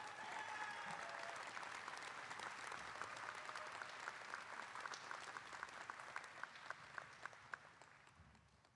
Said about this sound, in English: Let's offer another round of applause for all these outstanding graduates